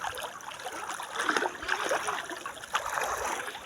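Water of the Sankri river flows steadily past the riverbank at a crossing point, a continuous close wash with small splashes and trickles and no voices.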